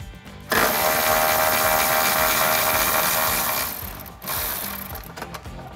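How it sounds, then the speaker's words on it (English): A ratchet with a 13mm socket backs out the rear exhaust hanger bolts on a 2015-2017 Mustang GT, giving a loud, steady run of rapid clicking for several seconds, a brief pause, then a shorter burst of ratcheting. "Now we can go ahead and remove our rear hangers using our 13mm socket"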